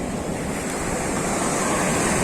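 Ocean surf breaking along a mangrove-fringed beach strewn with sargassum seaweed, a continuous broad wash of waves mixed with wind buffeting the microphone, loud and close with no voices.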